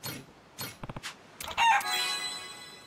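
A hen in the video game Like a Dragon: Pirate Yakuza in Hawaii gives a few quick clucks and squawks, followed by a brighter rising in-game chime, close and clear with no talk.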